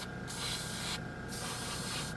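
A Dspiae no-wash airbrush hisses out a fine mist in two sustained bursts separated by a short pause, loud and close with a steady airy spray texture.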